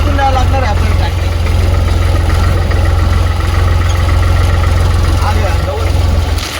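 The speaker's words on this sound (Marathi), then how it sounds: "पूर्ण गवतातून द्यावं लागणार आहे आपल्याला ट्रॅक्टर" A tractor drives through tall grass on a farm, its engine a steady low rumble throughout, close and fairly loud, with a faint voice underneath.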